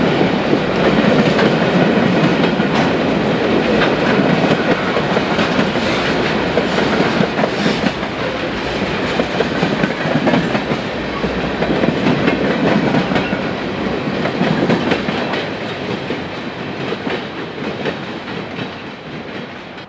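A Chicago Fort Wayne and Eastern freight train hauled by GE Dash 8 locomotives rolls steadily past close by, with loud continuous wheel clatter and rumbling cars that ease slightly toward the end.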